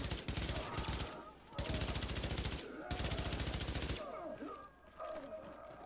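Light machine gun in The Division shooter game firing three long sustained bursts, loud and rapid, followed by scattered quieter shots and echoes.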